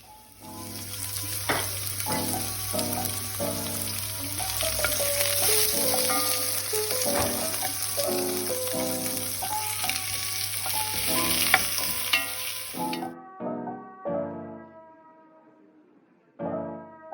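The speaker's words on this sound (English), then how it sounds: "just sauteing the chilies and onions in this oil until they're translucent and soft" Chilies and onions sauteing in a teaspoon of olive oil for a vegan chickpea and spinach curry, a steady close sizzle with spoon stirring for about thirteen seconds, then the frying stops and only a few scraping stirs remain.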